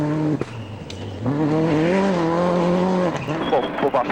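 Tommy Mäkinen's Subaru rally car with a throttle problem revs loud and close, its engine note rising and wavering unevenly through the gears, with a brief dip and surge partway through.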